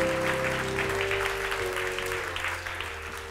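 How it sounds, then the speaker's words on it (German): An audience at a German panel discussion on the future and algorithms applauds as guests come onto the stage: continuous, moderately loud clapping with a faint tonal hum underneath at first, gradually tapering off. "Bitte einen großen Applaus"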